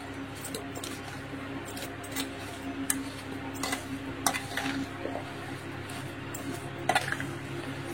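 Raw mango pickle being mixed in a bowl, giving soft wet squishing with scattered clinks and taps of a spoon against the bowl, fairly quiet and steady with no talking.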